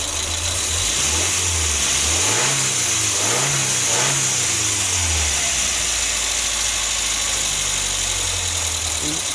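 A Mazda B Series pickup truck engine with Holley Sniper EFI revs up and down several times in rising and falling surges, then settles back to a steady low rumble; loud and close.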